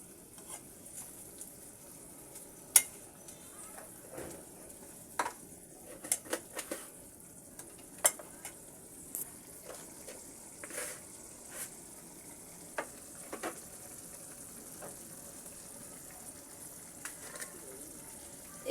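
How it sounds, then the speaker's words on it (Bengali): Shrimp frying in a pan while cooking a kochur loti dish: a steady soft sizzle with scattered crackles and pops throughout, moderately close and without talking. "এবার আমি চিংড়ি মাছটাকে জাল করে নেব।"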